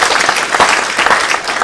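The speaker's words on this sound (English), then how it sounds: "just a round of applause for both of them" Steady, dense applause from an audience at a talk on organ donation, greeting two patients, continuous and fairly loud throughout the short stretch.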